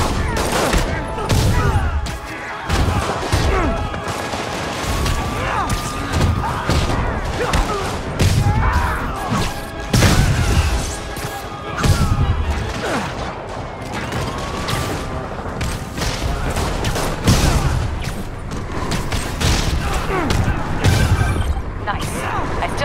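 Rocket fire and explosions in a prison in the video game Spider-Man form a long, dense barrage of blasts, booms and mechanical clatter, with voices talking throughout.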